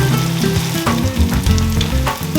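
Tomato omelette with mozzarella frying over medium heat in a pan, a steady loud sizzle running throughout the short clip with no voices over it.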